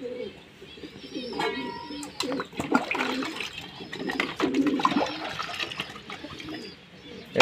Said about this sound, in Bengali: দেখুন না, জল খাওয়ার জন্য পায়রা উপরে উঠে আসছে